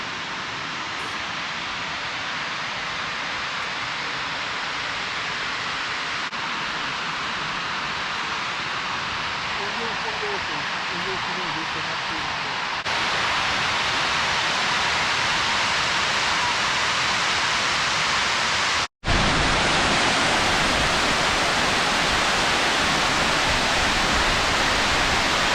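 Water pours steadily over the Derwent Dam spillway, a dense, constant roar like heavy white noise that holds loud and unbroken throughout, with one brief dropout near the end.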